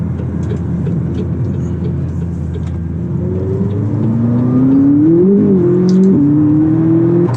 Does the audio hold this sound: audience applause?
no